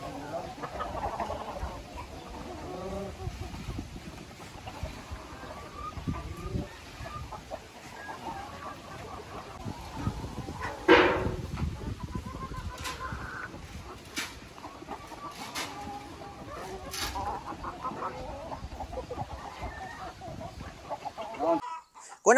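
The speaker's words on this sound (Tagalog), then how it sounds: "Ito yung unang beses na kakain yung ating bagong bili ng mga manok ng ganitong feeds." Black Australorp and Rhode Island Red chickens cluck and murmur steadily while eating feed, with a brief louder squawk partway through and soft scratching, heard close up with no talk.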